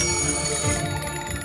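Old telephones jangle with a continuous bright metallic ringing at the BBC headquarters switchboard in London in 1956, several bells overlapping in a steady, loud burst.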